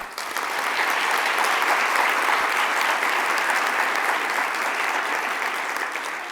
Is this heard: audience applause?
yes